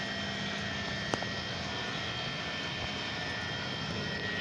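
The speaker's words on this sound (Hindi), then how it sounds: "थोड़ी बहुत आवाज़ है, तो पुराने बैरिंग है इसलिए पुराने बैरिंग थोड़ी बहुत आवाज़ करते ही हैं" A rewound 48-volt e-rickshaw motor with old bearings spins steadily, giving a faint, even whirring hum with a thin high whine and one small click.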